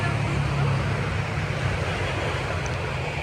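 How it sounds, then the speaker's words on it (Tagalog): Big Pacific Ocean waves at a black-sand beach, a continuous loud roar of surf mixed with wind buffeting the microphone, steady and close with no distinct individual breaks and no talking. "Kaya malalaki ang alon dito kasi Pacific Ocean yung harap."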